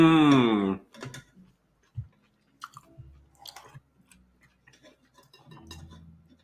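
Soft, sporadic chewing of Vietnamese caramelized salmon (ca kho), heard close and quiet after a brief spoken word, with faint clicks of cutlery scattered between mouthfuls.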